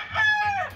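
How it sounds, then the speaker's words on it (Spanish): A Lipper rooster from Gary Gilliam's line lets out a single short crow, close and loud, with no other sound. "El gallo es un Lipper de Gary Gilliam"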